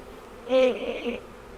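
Honey bees in a hive give a brief close buzz that swells and fades over about a second, against a quiet background.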